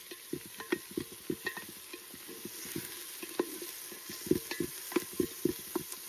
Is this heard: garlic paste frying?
yes